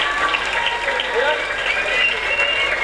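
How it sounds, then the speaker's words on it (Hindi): Loud, steady audience applause welcoming dignitaries at a community student-award ceremony in Chennai, a continuous dense clatter of clapping with faint tonal sounds and voices mixed in underneath. "एक बार जोरदार तालियों से उनका स्वागत किया जाए"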